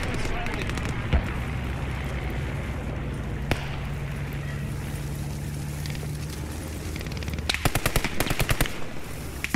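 Machine-gun and rifle fire from the WWII shooter Post Scriptum crackles steadily throughout, with a sharp burst near the start and dense rapid volleys toward the end, under a low engine drone and occasional voices.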